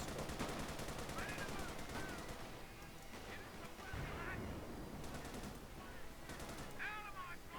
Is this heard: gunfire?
yes